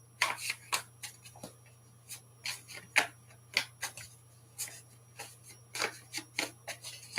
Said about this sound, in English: you shuffle the cards back to the normal